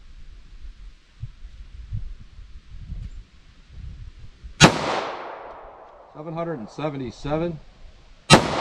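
Two sharp, loud pistol shots from a Smith & Wesson Shield with a 3.3-inch barrel firing Fiocchi Defense Dynamic 200-grain .45 ACP, several seconds apart, each with a ringing decay outdoors, with a voice speaking briefly between them.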